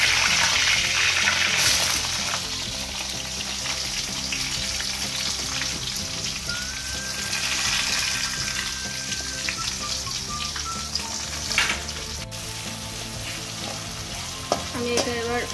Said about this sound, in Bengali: আমি এটা এবার একটু ভাজবো, একটু পেঁয়াজটা লাল করে ভাজবো